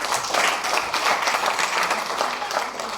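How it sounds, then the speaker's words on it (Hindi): Dense, steady applause from an audience at a Safe Shop business team meeting, many hands clapping together at full strength throughout with no pause. "तो सर के लिए एक बार और ताली बनती है"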